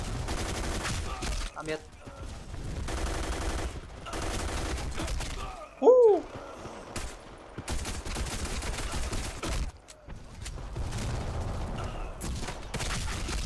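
Rapid bursts of automatic gunfire from the FPS game Black Squad repeat throughout, loud and close, broken by short pauses, with a voice speaking briefly among the shots.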